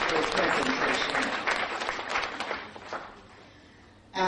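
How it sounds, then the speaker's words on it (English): An awards-ceremony audience breaks into loud applause with some cheering, dense at first and then fading gradually over a few seconds before a voice cuts in at the end. "you all should really give him another big round of applause for his presentation"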